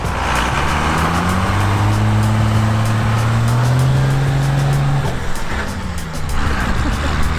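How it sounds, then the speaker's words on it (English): A Dodge Cummins pickup accelerates hard on snow, its loud diesel engine rising in pitch and briefly dropping as it shifts up a gear. The engine stays close and dominant throughout. "He's shifting into second. That might be third, David."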